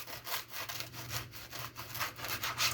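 A knife saws through a piece of crispy cream cheese parmesan crusted French bread, giving a quick series of rhythmic, scratchy crunching strokes, faint and close.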